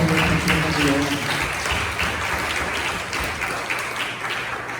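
A congregation applauds in thanks during a Christmas Sunday church service, a steady, dense wash of many hands clapping together at moderate loudness throughout, with room murmur and some voices beneath it.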